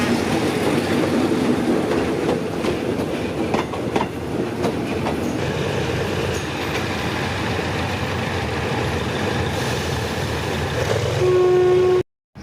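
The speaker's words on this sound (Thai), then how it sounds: "มีหัวรถจักรเปล่าเข้ามาอิตาชิซีห้าหนึ่งแปด" A train arriving at a station, joined by an empty Hitachi C518 locomotive in front of the locomotive shed, a steady loud rumble and rail clatter throughout with a brief horn-like tone near the end, no voices.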